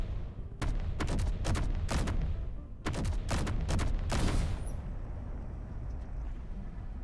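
Hydrogen tanks blowing up in the video game Space Engineers, a rapid series of sharp, loud blasts in two bursts with heavy low rumble, ending in a fading roar and quiet hiss.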